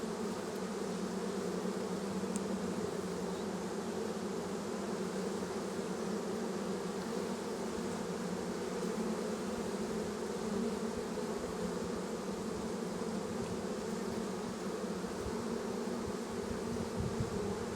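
Honey bees drone steadily in an open hive during a late-summer inspection, with pollen coming in on their legs; a dense, continuous buzz holds close and even throughout with no voices.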